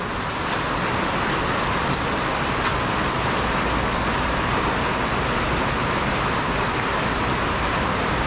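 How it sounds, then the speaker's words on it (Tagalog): Heavy rain pours steadily outdoors over an ampalaya (bitter gourd) farm during a typhoon, a dense, unbroken hiss that fills the whole stretch with no pauses. "Lakas pa rin ang ulan ah."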